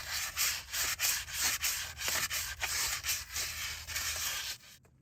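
Rust and dirt get rubbed off a front wheel hub surface on a 4WD 1999–2007 Chevy Silverado or GMC Sierra, a close, steady back-and-forth scrubbing in quick rhythmic strokes that stops abruptly.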